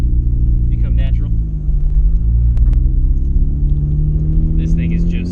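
Engine of a Midnight Purple Nissan R34 GTR, a Japanese-market right-hand-drive car, rumbles low and steady from inside the cabin while driving, with brief voices and faint ticks over the drone.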